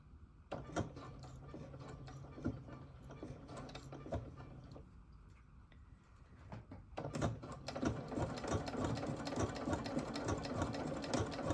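Sewing machine stitching fabric for a drawstring bag, its motor running in a steady mechanical whir with a brief pause partway, then picking up again louder and faster to the end; no voices.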